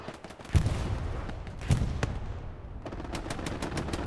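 Strafing-run gunfire from an aircraft in the World War II shooter Hell Let Loose, Mortain chapel map: heavy bursts of automatic fire with two loud booming impacts, then continuous rattling shots, with no talk.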